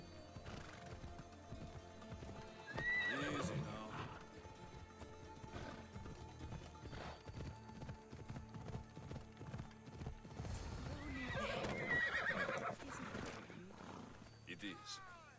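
A horse in Assassin's Creed Odyssey trots with rhythmic clip-clopping hooves and lets out occasional whinnies, fairly quiet beneath a person talking.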